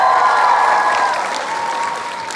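A TwitchCon panel audience applauds loudly, a dense wash of clapping mixed with cheers and whoops that starts strong and slowly fades.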